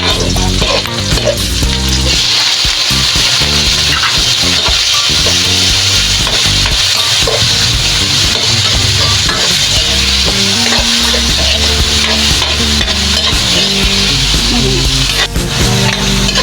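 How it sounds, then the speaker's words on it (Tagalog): Onion and tomato stirred and sautéing in a pan for mongo stew, a steady sizzle with scraping stirs throughout, close and loud, with no talking. "Lutuin lang natin konti yung sibuyas. And isunod na natin yung ating kamatis."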